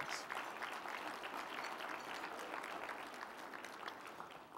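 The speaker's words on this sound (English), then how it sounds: "Give her a round of applause" A breakfast audience at a chancellor's community event breaks into a round of applause, a dense, even wash of many clapping hands heard somewhat distant and sustained throughout.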